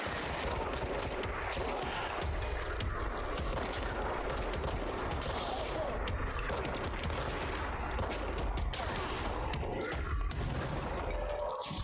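Combat in the video game Control: rapid bursts of gunfire and crashing impacts with a heavy blast, dense and continuous, with brief moments of talk mixed in.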